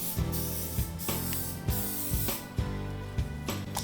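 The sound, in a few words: nonstick butter spray on griddle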